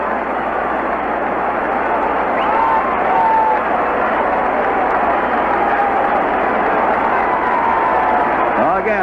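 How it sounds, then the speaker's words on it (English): A huge baseball stadium crowd at a 1969 Yankees–Senators game roars in a steady, dense wash of cheering and clapping that fills the whole stretch, heard through old narrow-band broadcast audio with faint voices inside it. "Again, this huge crowd comes to life."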